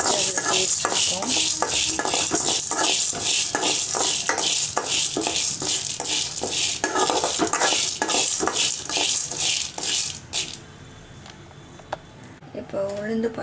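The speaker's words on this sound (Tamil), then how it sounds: "நல்லா பொன்னிறமாக வறுத்துக்கணும்" Curry leaves and flax seeds dry roasting in a pan crackle and rattle steadily as a spoon scrapes and stirs them in rhythmic strokes, close and busy, easing off near the end.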